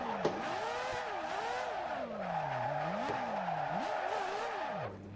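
Car drifting through a corner in the Assetto Corsa racing game, with a sustained engine roar whose pitch swoops up and down as the throttle rises and falls, a constant tire squeal layered over it and a sharp click near the start.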